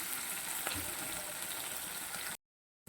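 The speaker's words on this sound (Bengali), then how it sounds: "তিরিশ সেকেন্ডের মধ্যে চিনিটা ভেজে নিলাম" Sugar frying in hot oil in a pan, giving a steady, dense sizzle that holds evenly for a couple of seconds and then cuts off abruptly.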